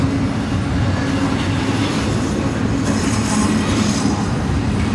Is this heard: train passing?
yes